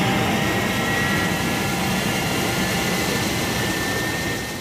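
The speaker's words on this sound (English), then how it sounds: "As soon as Thunderbird 1 takes off, start shooting." Thunderbird 1 lifts off as a TV show sound effect, a loud, dense jet-like roar that holds steady throughout and eases slightly at the end.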